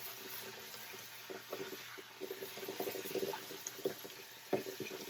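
Tap water runs steadily into a sink as potatoes are rinsed underneath, a soft, quiet splashing with small irregular surges and no voices.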